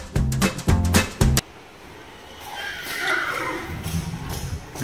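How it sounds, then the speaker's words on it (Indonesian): A mare on a horse farm gives a loud, close whinny in several quick rising bursts, then falls quiet to a soft outdoor background with faint stirring. "kuda betina tersebut sering mengeluarkan suara-suara aneh seperti lolongan"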